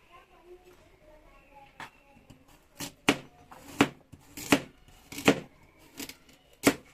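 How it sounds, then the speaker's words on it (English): A kitchen knife slices a carrot on a board, a run of crisp, fairly close chops that start sparse and get quicker and louder, alone without talk. "I'm slicing my carrot"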